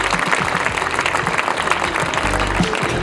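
An outdoor theatre audience at a beauty pageant final applauds a singer and dancers in a dense, steady burst of clapping. A low rumble sits underneath, and a voice briefly rises over the crowd.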